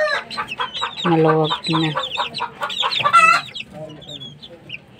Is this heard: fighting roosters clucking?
yes